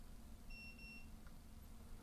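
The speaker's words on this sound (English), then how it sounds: "press and hold the set button until the unit beeps" An electronic handleset door lock gives a short, faint pair of high electronic beeps over a quiet hum, with no talking.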